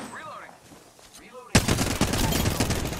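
Apex Legends gunfire: after a quiet stretch of faint game sounds, a loud, dense burst of rapid automatic shots erupts and keeps hammering through to the end.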